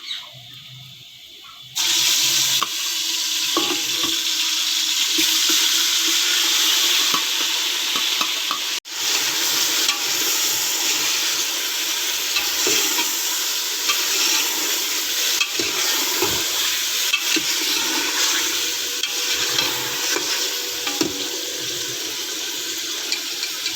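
Marinated chicken sizzles loudly in a pressure cooker for biryani, a dense, steady frying hiss after a sudden drop into the hot oil, with scraping stirs and clinks throughout and no speech.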